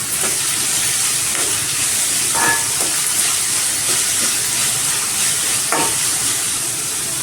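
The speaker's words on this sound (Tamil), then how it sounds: "ஒரு டீஸ்பூன் மிளகு சேர்த்துக்கலாம் நல்லா வதக்கிக்கலாம் இந்த வெங்காயம் சீக்கிரம் வதங்கிறது" Onions and black pepper sauté in a hot pan for a white peas and potato curry, giving a steady, loud hiss and sizzle with a few soft stirring scrapes and no voices.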